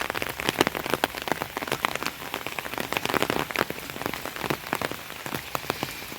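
Steady rain pours onto a flooded village road, a dense patter of countless drops tapping puddles and hard surfaces, constant and even throughout with no voices.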